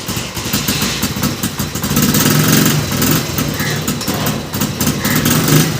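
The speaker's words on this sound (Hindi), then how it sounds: "तो अब जी बाइक स्टार्ट करें, चले जी।" A motorcycle engine runs close by in cold weather, chugging and revving unevenly with a mid-pitched throb and occasional misses. It is loud and continuous, with no talking.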